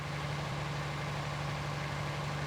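A vehicle engine idles in a farming video game, a steady low drone with an even hum that holds constant and fairly quiet, with no other sounds around it.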